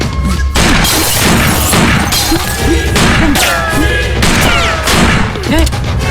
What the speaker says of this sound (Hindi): चलो गोलियां बरसाओ।